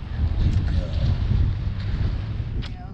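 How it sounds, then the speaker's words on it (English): Strong 40-mile-an-hour wind sweeps across Lake Fork, Texas, battering the microphone with a continuous loud, low roar that barely eases over three seconds. "So this 40 mile an hour wind today is changing my entire plan."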